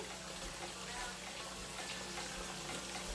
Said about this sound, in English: So while my meat is frying